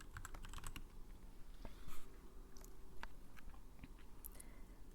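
Soft clicky keystrokes on a mechanical keyboard come in quick irregular bursts and pauses, close and quiet in an ASMR setting, with no one speaking.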